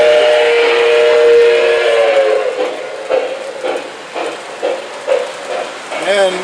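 An MTH model steam locomotive pulling Santa Fe cars gives a long steam whistle, then chuffs in a regular rhythmic puff, ending with another short whistle toot, close and loud.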